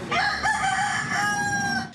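Roosters crow loudly and close, one long drawn-out cock-a-doodle-doo call filling most of the moment, kept by villagers in tree shelters during flooding.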